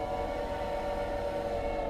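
A steady, sustained train horn blares in the video game Choo-Choo Charles, holding one continuous tone for the whole stretch over a rumbling low background, with no voices.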